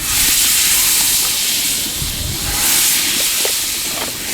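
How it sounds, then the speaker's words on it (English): Butter sizzling in a hot pan at a lakeshore lunch cookout, a steady broad hiss filling the clip with a few small pops, close and fairly loud. "Now, there goes the butter in there."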